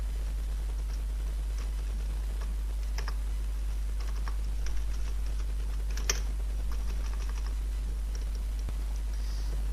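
Steady, soft typing of code on a computer keyboard, with light irregular clicks and occasional louder keystrokes over a constant low hum, no voice.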